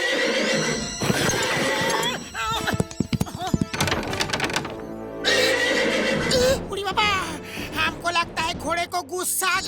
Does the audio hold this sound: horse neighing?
yes